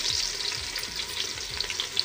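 Garlic dropped into hot oil with spices such as cloves, cardamom, peppercorns and cumin sizzles and crackles steadily, close and fairly soft, with light stirring scrapes and no talk.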